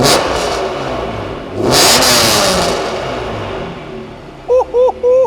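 A 1995 Honda NSX-R engine revs indoors, idling, then climbing in a sharp, loud surge before settling back, followed near the end by a few short tonal beeps.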